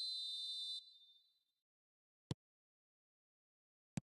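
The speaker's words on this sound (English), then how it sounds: "There's the whistle, and here we go." A referee's whistle in the eFootball video game sounds one sustained high blast that fades out, then two faint, isolated clicks follow in near silence.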